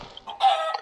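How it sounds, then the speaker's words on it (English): A chicken in the Minecraft video game gives a few short clucks, close and fairly loud, the last one fuller and longer, with no talking over it. "A chicken."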